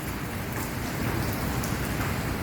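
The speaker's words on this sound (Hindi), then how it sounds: "अब यहाँ पर बारिश आ रही है" Steady rain falls and patters on surfaces in a dense, even hiss, loud and close throughout with no voices.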